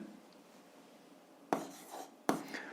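A pen writes on paper with faint scratchy strokes, including two sharp taps or quick marks, quiet throughout with no talking.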